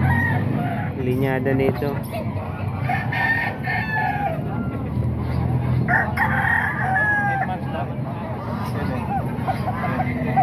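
A rooster crows repeatedly at a busy Baliwag, Bulacan market where chickens are bought and sold, the calls loud and close over constant crowd babble and someone talking nearby.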